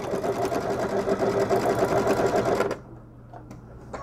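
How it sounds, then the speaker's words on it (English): Sewing machine stitching a picnic roll over existing top stitching, a steady close mechanical whir for most of the clip before stopping abruptly near the end. "we're gonna stitch right on top of our top stitching"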